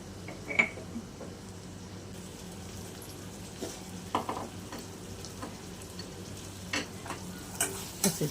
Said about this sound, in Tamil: உப்பு சேர்த்து நல்லா கலந்து விட்டுறலாம்